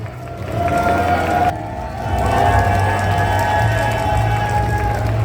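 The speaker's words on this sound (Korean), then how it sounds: "여러분 뜨거운 박수 부탁드리겠습니다." A crowd at the AGF 2025 Korea concert stage cheers and applauds, a continuous roar of clapping and shouts that swells after a brief dip, with faint music tones lingering beneath.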